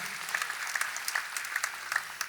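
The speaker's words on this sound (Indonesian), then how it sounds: "Beri tepuk tangan yang meriah." Audience applause at a church sermon, a steady wash of many hands clapping at moderate distance, continuous throughout with scattered sharper claps and no speech over it.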